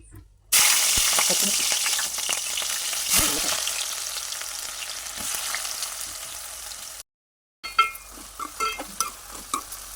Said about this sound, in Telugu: ఉల్లిపాయ ముక్కలు కొంచెం దోరగా వేగేదాకా వేయించుకోవాలి.